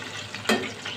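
Raw minced-meat kebabs frying in a pan, a brief close sizzle with a sudden louder burst midway, as if a kebab is turned.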